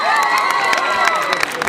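A live concert audience bursts into cheering and applause, a dense, loud wash of claps and shouts with whistles and excited voices rising together over a couple of seconds.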